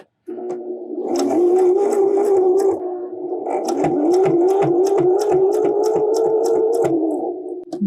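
Sewing machine stitching through layered fabric for a face mask, a steady loud whirring drone with rapid repeating needle clicks running continuously with a brief dip midway; no voices.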